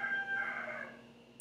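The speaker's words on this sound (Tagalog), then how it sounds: "Tilaap na yung mga manok." A rooster crows once in a drawn-out, wavering call, moderately close and fading at the end.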